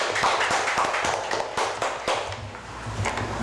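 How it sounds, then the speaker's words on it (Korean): Applause in a conference hall at a policy forum, a steady patter of many hands clapping with a few sharper individual claps standing out, continuing evenly and then thinning. "우리 윤 박사님이 제일 반가우신가 본데 박수를 열심히 주시네요"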